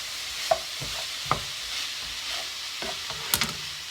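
Food with red pepper flakes cooks in a skillet with a soft continuous sizzle, broken by a few sharp clinks and scrapes of a utensil against the pan.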